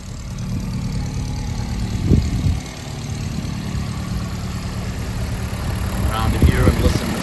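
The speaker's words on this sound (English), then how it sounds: "listen to this magnificently smooth motor" Engine of a 1967 Alfa Romeo Giulia 1300 ti idling after a cold start through a single center muffler with factory mufflers deleted, a steady low rumble with brief swells and someone talking over it.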